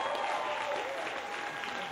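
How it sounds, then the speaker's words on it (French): Audience applause at a local evening artist showcase in Lac-Saint-Jean, a steady clapping crowd, fairly faint and distant, lasting about two seconds with no talk. "On l'applaudit!"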